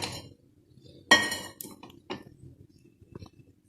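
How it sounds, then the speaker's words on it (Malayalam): A deep metal pan clanks down onto a stove with one sharp clatter, followed by a few lighter clinks and knocks of cookware in a quiet kitchen. "കുഴിയുള്ളൊരു പാത്രം വേണം അടുപ്പിൽ വെക്കാനായിട്ട്"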